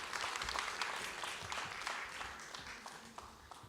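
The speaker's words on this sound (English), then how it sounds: "A big round of applause, please." Conference audience at a startup ecosystem event in Moldova gives a round of applause, dense continuous clapping from a sizeable crowd that fades slightly toward the end.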